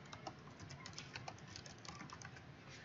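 Fast, steady clicking of computer keyboard keys goes on without a break, quiet and close, against a faint background hiss and with no talk.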